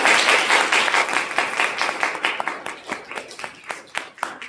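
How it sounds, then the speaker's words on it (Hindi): Audience applause fills a hall after a speech competition at a college fest, dense clapping from many hands that thins into scattered, sharper individual claps toward the end. "तालियों की गड़गड़ाहट बता रही है कि आपने कितना अच्छा काम किया"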